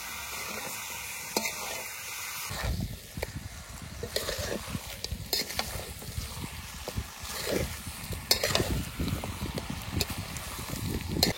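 Mutton pieces frying in oil with cooked-down spices and Kashmiri chili powder, a steady broadband sizzle with crackling bursts and scraping stirs that start loud after a quieter opening, continuing close throughout with no talk.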